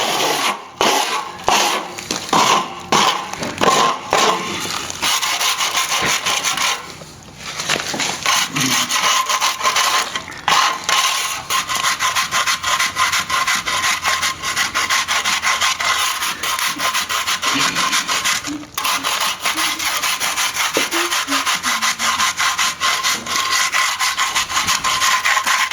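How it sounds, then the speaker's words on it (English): A hand tool rasps and scrapes across a freshly set crack repair in sand-textured render, a loud continuous grinding scrape with rhythmic strokes at the start and a few short pauses. "Give this a bit of a scrape back."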